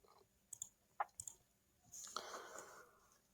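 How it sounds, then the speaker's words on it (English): Mouse clicking through quiz answers on a computer, a few sharp separate clicks near and quiet, followed by a brief soft rustling noise. "I'm just clicking any answer so you see the result."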